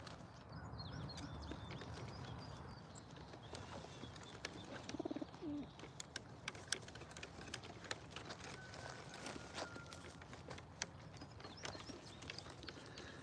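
Racing pigeons at an outdoor loft give off soft cooing and scattered wing flutters and scuffs, faint and fairly distant over a steady outdoor background.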